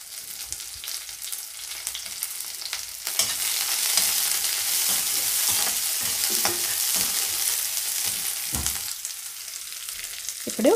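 Chicken 65 ingredients fry and get stirred in a pan, with a constant close sizzle that swells louder midway, punctuated by scraping and clinking of the spoon against the pan.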